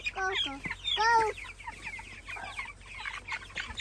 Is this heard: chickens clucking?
yes